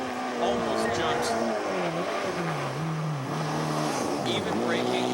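A rally car races fast along a narrow, bumpy road during a 1994 rally, its engine droning and shifting pitch as revs rise and fall through gear changes, with a commentator's voice talking over it.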